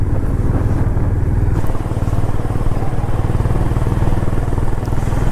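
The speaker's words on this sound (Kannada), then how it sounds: "after long time bike riding ಮಾಡ್ತಿರೋದು" A Honda CB350 motorcycle on a long highway ride from Bengaluru toward Chikkamagaluru, its engine thrumming loud and close in a continuous low rumble, mixed with steady wind rush and no voices.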